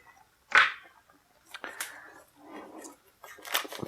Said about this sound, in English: We'll just start with our handy dandy X-Acto knife here and just slice this open real quick